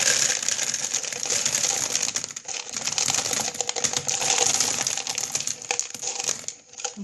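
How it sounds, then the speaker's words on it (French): Gravel poured into a recycled coffee can, a dense continuous rattling and clattering of small stones against metal that stays steady and fairly loud for several seconds with no talking. "moi je mets des graviers"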